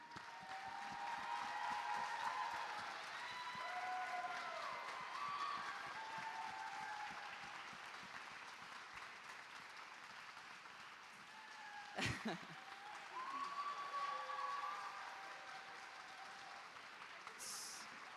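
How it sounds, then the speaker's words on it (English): Audience applause at a school presentation event, a steady, fairly faint wash of clapping that carries on for the whole stretch, with a brief louder burst partway through. "If I could ask you for another round of applause for Dr. McLean."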